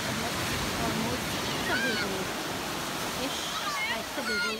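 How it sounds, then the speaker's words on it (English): Ocean waves wash in at Las Cuevas beach in Trinidad, a steady broadband rush of surf with indistinct voices faintly in the background. "There are some waves here."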